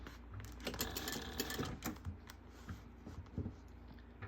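A sewing machine stitching fabric for a bag, running in close, rapid bursts of mechanical clatter with short pauses between runs and no talking.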